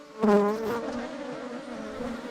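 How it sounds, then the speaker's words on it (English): African bees swarm at an apiary in Trinidad, a dense, close buzzing that swells loudly at first, then settles into a steady, droning hum with no voices. "you will be swarmed by bees"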